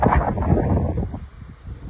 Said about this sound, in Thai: ลมมากนะคะลม